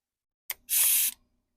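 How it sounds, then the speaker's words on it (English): Compressed air escapes from a leaking drain valve on an air compressor in two quick bursts, a brief sharp spit followed by a louder half-second hiss, close and alone against silence. "I got a small leak in the drain valve, and I just let it drain kind of all the time."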